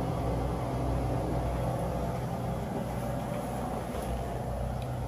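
Rooftop air conditioner on an RV running without a baffle box, heard from the backside as a loud, steady broadband roar with a low droning hum that holds constant throughout.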